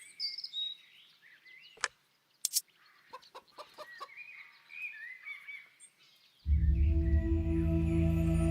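A chicken clucks and squawks in short bursts inside the hidden-object adventure game Lost Lands X. A loud, steady ambient rush takes over near the end.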